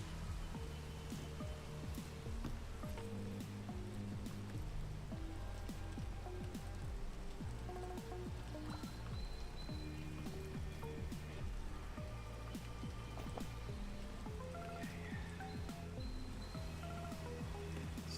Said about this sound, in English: As soon as this rain fucks off.